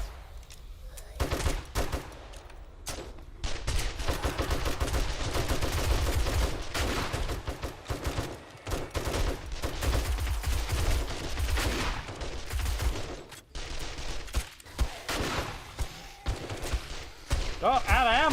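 Rapid, dense gunfire from a weapon in the video game 7 Days to Die, in near-continuous loud bursts that run through almost the whole stretch with brief gaps.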